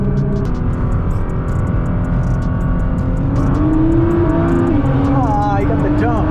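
A silver Nissan GT-R drag car revs hard and launches, its loud, steady engine roar swelling and rising in pitch as it pulls away. A voice talks over the noise.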